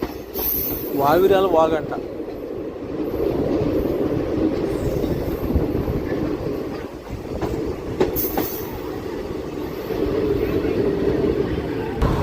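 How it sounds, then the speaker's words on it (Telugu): Onboard a passenger train on the Guntur-Macherla line, a continuous loud rumble of wheels on track is broken by brief squeals and rhythmic clacks, with a short spoken phrase near the start. "బండి స్పీడ్ అయితే మాత్రం బాగానే మెయింటైన్ చేస్తున్నారండి."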